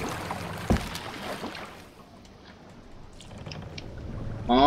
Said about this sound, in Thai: ไปเดี๋ยวเราเดินเรือดีกว่านะครับทุกคน